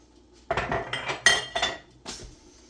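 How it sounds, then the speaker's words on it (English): Dishes and cutlery clink and clatter as they are put away in a home kitchen, several bursts of clattering over a couple of seconds, close and fairly loud with no talking. "try to put the dishes up."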